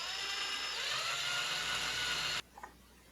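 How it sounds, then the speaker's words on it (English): Power drill with a 2mm bit drilling out posts on a custom Ford Mustang GT Bullitt, a steady close high-pitched whir that stops abruptly, followed by a couple of faint clicks. "Just going to drill those posts out a little deeper with the 2mm piece."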